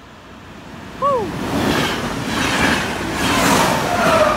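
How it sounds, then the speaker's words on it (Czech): A train rumbles past close by, building into a loud, broad roar as it gathers speed, with a brief whistle-like squeal near the start. "tak jede vlak"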